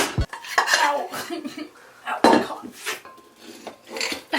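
Food is turned over in a pan while cooking, with clattering and scraping of a utensil against the pan in several close, loud bursts separated by short pauses.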